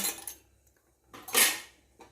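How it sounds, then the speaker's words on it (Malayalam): A metal lid set onto a cooking pot while making Kerala-style egg roast, heard as two separate clanks, a short one at the start and a louder ringing clatter a little after, with near silence between them. "ഉപ്പ് പാകം ആക്കിയിട്ട് ഒന്ന് മൂടി വയ്ക്കുക."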